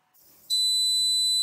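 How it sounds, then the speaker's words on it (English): A single high electronic beep sounds from a TLC-2000 laser therapy system's desktop software when treatment finishes, clear and steady, held for about a second. "You will hear a beep."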